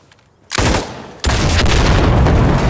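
M249 light machine gun firing in Insurgency Sandstorm co-op: a loud, close burst opens, eases off briefly, then a sustained dense stream of rapid automatic fire runs to the end.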